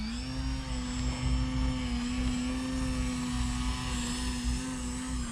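RC 3D model plane with flaps popped upward, flying low a foot off the ground in a Harrier hover, its electric motor and propeller holding a steady, close, buzzing whine with strong harmonics for several seconds, no talking.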